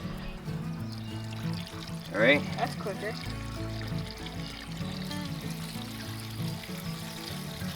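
Water from an RPS 400 solar water pump pipe pours in a steady stream, moderately loud and continuous, while people talk over it.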